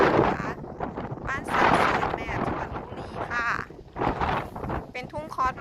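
Strong wind gusts through a cosmos flower field at a farm in Lopburi, Thailand, buffeting the microphone in loud rushes while someone talks over it.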